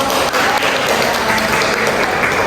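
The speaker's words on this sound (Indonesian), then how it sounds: "Kita berikan aplaus untuk kelompok." Steady applause from a classroom audience for a student group after their presentation, dense continuous clapping filling the room at full volume.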